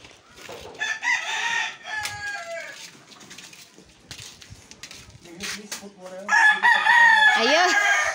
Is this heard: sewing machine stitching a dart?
no